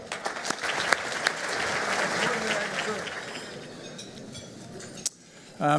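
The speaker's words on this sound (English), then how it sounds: "So round of applause for Paul Purcell" Audience applause for an honoree at the Wisconsin Business Hall of Fame 2017 event, a dense spread of clapping that holds steady and then thins out toward the end, with a sharp knock near the close.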